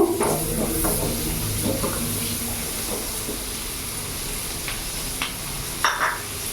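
Two large onions frying in butter in a pan over medium heat, a steady soft sizzle and hiss with occasional spatula scrapes and clicks.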